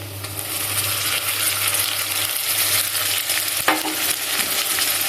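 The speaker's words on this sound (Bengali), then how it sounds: "এখন আমি দিয়ে দিচ্ছি সমস্ত মশলা পেস্ট" Spice paste frying in a wok, a dense continuous sizzle up close with a low hum beneath and one sharp metallic clink near the end, no talking.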